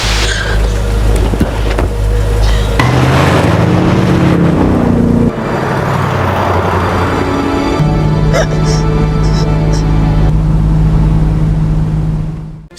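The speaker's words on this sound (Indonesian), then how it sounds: "Dean yang melihat Kelly syok langsung menyalakan mobil dan meminta Kelly kabur" A car being started and driven away in a scene from the horror film Dark Harvest: a loud, continuous engine roar with shifting, rising tones that sustain to the end.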